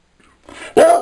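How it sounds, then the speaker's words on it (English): A single sharp dog bark rings out close and loud after a brief soft rumble, then fades quickly. "I'm going to bark savagely at you now."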